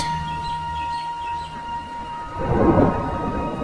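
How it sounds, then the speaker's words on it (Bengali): A deep rumble of thunder swells toward the end over a steady wash of rain, with a faint constant hum in the background. "গতকাল থেকে এক টানা মুষলধারে বৃষ্টি"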